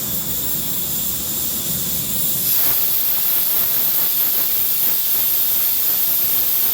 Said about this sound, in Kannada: ಕುಕ್ಕರ್ ಮುಚ್ಚಳ ಮುಚ್ಚಿ 4 ವಿಸಲ್ ಬರೆಸ್ಕೊಳ್ಬೇಕು.